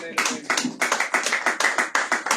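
A church congregation claps in a steady rhythm, about a dozen sharp, close hand claps in quick succession with a faint voice underneath.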